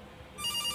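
Electronic telephone ring from the horror video game Case Animatronics, a shrill trilling tone that starts partway through and rings loudly and alone.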